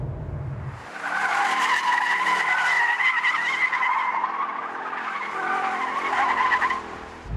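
A Ford Mustang Boss 302 with adjustable dampers corners hard, its tires skidding and squealing in a loud, sustained screech that wavers for several seconds, with engine noise underneath.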